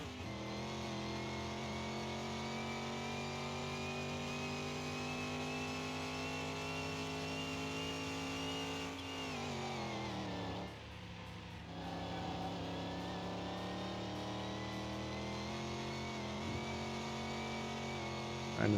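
Race car engine in the racing game CMS21, revving steadily as it climbs through the gears, with a sharp pitch drop at a shift partway through before it builds again, loud and continuous.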